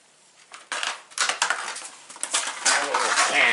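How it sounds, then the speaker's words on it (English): Burnt Petrobond oil-bonded casting sand is scraped out during aluminum casting, producing close, gritty scraping and crunching bursts that grow more frequent and louder as the work goes on. "Thing with this Petrobond is basically this part of it that's burnt. You kind of want to scrape it out."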